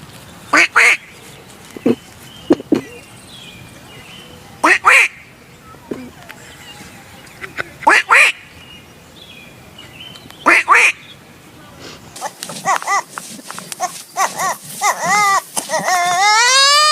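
A duck quacking in repeated loud, close bursts with pauses between, then a denser, faster run of calls near the end; no talking.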